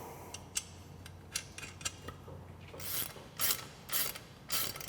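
Mechanical clicking and ratcheting while a nut is threaded and tightened on the front mount of a Polaris Timbersled snow bike conversion: a string of sharp, close ticks, then several louder, brighter bursts of wrench ratcheting near the end, with no talk.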